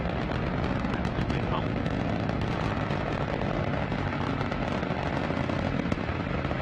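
An Antares rocket's first stage engine at full thrust, launching the SS Sally Ride spacecraft toward the International Space Station, roars as a dense, steady, crackling broadband rumble that stays constant throughout.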